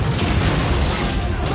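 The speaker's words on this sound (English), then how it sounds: "I forgot the grenades like affect each other and blow up each other in this game" Chained grenade explosions in Halo played on legendary difficulty, grenades setting each other off: a dense, continuous low booming roar lasting the whole short moment, loud and close.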